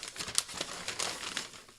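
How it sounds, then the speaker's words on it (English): Kraft paper packaging from an August 2018 witch-themed subscription box is unwrapped close by, giving a run of crisp crinkles and rustles with a few sharper crackles and no talk. "It's wrapped in craft paper"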